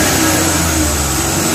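Suzuki K6A engine in a DA64/DA63 vehicle revving loudly and steadily up close, a continuous droning hum with strong low rumble and no talking.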